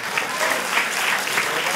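Theatre audience applauding after an amateur staging of Verga's Cavalleria Rusticana, a steady unbroken wash of many hands clapping close by, even in loudness throughout.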